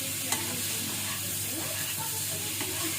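Masala sautéed and stirred in a pan for rajma, a steady dense sizzle with spatula scrapes now and then and a faint voice in the background.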